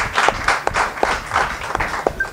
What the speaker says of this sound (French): Est-ce qu'on peut fortement applaudir?